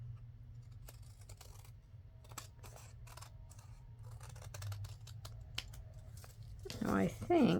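Scissors cutting paper edges straight in an envelope and tag papercraft project, a run of crisp, close snips and clicks over a low hum, ending in louder paper rustling.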